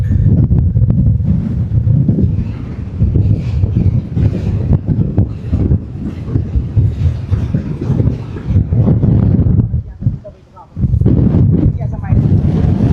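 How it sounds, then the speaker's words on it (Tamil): Strong wind buffeting a microphone at a seaside jetty, heavy low rumbling gusts roaring almost continuously with a brief lull near the end, while someone talks throughout. "அந்தளவுக்கு காற்று அவ்வளவு பலத்த காற்று வந்து வீசிக்கொண்டிருக்குது"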